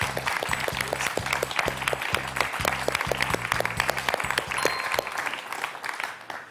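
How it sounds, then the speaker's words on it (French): Studio audience of a television quiz show applauding a contestant: sustained, even clapping from a modest crowd, with a rhythmic musical beat pulsing underneath throughout. "Jean-Marc, je vous applaudis"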